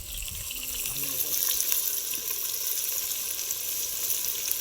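Chicken with turmeric and roasted ground masala fries in a pan for a Chettinad pepper chicken, giving a steady, close, broadband sizzle that holds evenly throughout with faint stirring underneath.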